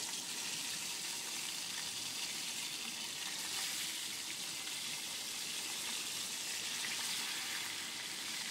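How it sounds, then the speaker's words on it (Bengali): Katla fish fries in plenty of hot oil in a wok, giving a steady, dense sizzle that stays even and continuous throughout with no voices. "মাছগুলো 2 পিঠ ভাজা করে নিতে হবে ভালো করে"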